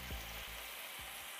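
Butter sizzles in a frying pan with lemon, a dense close hiss that runs without a break, with a few low thumps from the pan underneath.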